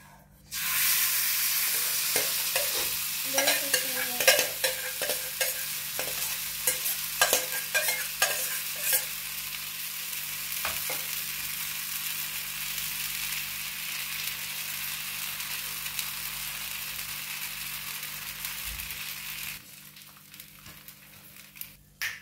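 Soaked batter poured onto a hot griddle stone and cooking on low heat, a steady, close sizzle with scraping and tapping early on, continuing for about twenty seconds before cutting off.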